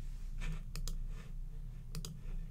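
Computer mouse clicks at a desk, two quick pairs of sharp, close clicks separated by a pause, quiet against a faint room hum.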